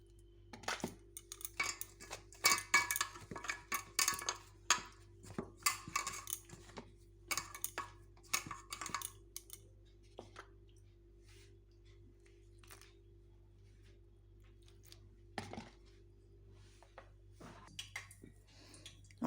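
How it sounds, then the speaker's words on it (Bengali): Batter for stuffed bombai chilli chops being mixed with water in a bowl: quick clicks and clinks of a utensil against the bowl, busy and close for about ten seconds, then sparse occasional taps in near silence. "এবার জল দিয়ে ব্যাটারটা তৈরি করে নেব।"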